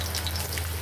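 Onion and chopped garlic fry in hot oil for red amaranth greens, giving a steady, close sizzling crackle with no voices.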